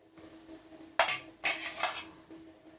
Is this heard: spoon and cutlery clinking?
yes